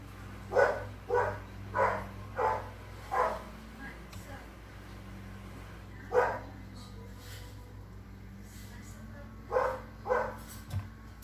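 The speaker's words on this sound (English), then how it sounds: "Sorry about Boots barking" A dog barks repeatedly in a rhythmic series, pauses, then barks again in short bursts, moderately distant over a low hum.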